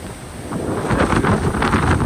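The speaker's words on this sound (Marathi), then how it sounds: "पाऊस खूप आलेला आहे त्यामुळे आम्ही ब्लॉक लवकरच एंड करतो." Heavy rain roars in a dense, continuous wash of noise, with gusts buffeting the microphone.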